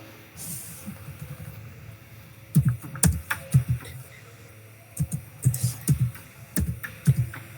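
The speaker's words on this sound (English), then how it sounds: "now type git status" Keystrokes on a computer keyboard, two short bursts of close, crisp clicks separated by a pause, over a faint room hum.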